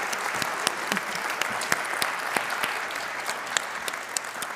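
An audience applauds at a Truman Capote centenary celebration event, a steady wash of many hands clapping with a few sharp, close claps standing out, continuing evenly throughout with no talking.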